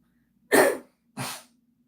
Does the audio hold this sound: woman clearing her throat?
yes